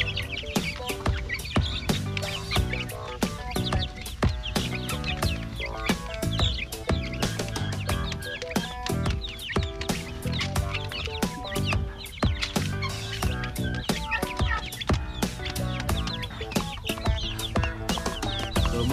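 Dense, continuous clucking from many chickens at close range, with overlapping calls throughout and no pauses, in a rural province setting.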